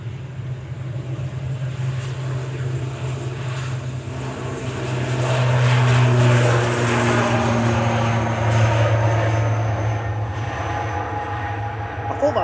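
An Aer Lingus Regional plane departs Manchester Airport for Dublin, a steady low engine drone with a propeller-like hum that swells in the middle and stays loud throughout, with no talk over it.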